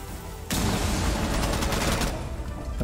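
Sustained automatic gunfire in the video game Rainbow Six Siege, a loud dense burst of rapid shots starting abruptly and running about a second and a half before dropping back to quieter game ambience.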